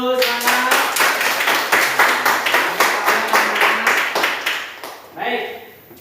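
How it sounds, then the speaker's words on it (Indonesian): A classroom group claps in a steady rhythmic pattern of roughly a dozen sharp beats, fairly close and loud, before fading out with a brief final burst of claps. "Ya, tepuk tangan dulu, semangat."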